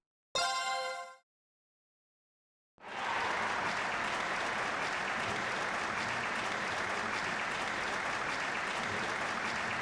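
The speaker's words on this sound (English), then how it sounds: "You can hear the clapping looping." A short bright chime, a pause of silence, then steady, continuous looping applause in the video game Trails of Cold Steel, holding at an even level without swelling or fading.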